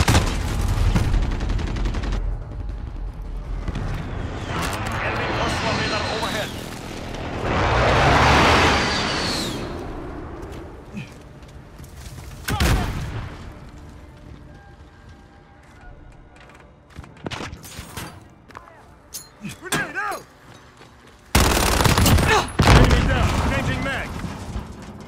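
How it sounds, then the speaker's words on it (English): Explosions from a precision airstrike and bursts of gunfire in a Call of Duty: Modern Warfare match, with loud booming bangs that rise and fall across the stretch, the largest blasts landing near the middle and again near the end, mixed with game voice callouts. "Allied precision airstrike is coming."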